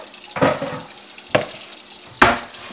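Running water from a kitchen tap splashes over red potatoes as they are rinsed for a crab boil. Three short, fairly quiet bursts of gushing water are separated by pauses.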